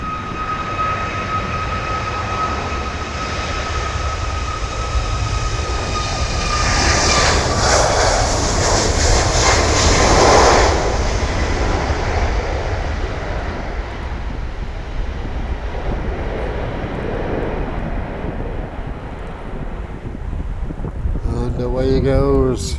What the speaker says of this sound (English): Let's first of all get this Ryanair departing.